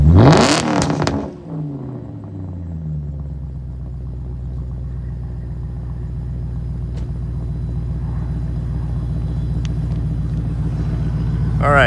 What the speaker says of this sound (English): give it a little rev as it warms up a little bit